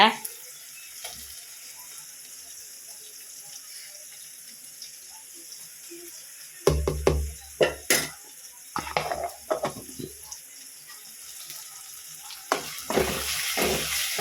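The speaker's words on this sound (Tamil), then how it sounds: "இஞ்சி பூண்டு பேஸ்ட்டு போடுறேங்க" Ginger garlic paste frying in a pan, quiet background for several seconds before clattering stirs, pan knocks and sizzling bursts in the second half.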